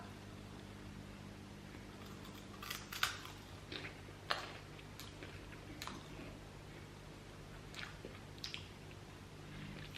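Someone chews a bite of galette with a vegan cheese alternative close to the mic, giving soft moist crunches and squishy bites spread out over a faint steady hum.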